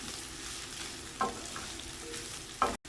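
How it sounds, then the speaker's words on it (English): Green beans and mixed vegetables sizzle softly while being stir-fried in a pan, with a couple of brief scraping stirs cutting through the quiet, steady hiss. "Stir fry these veggies and add in the seasonings as follows."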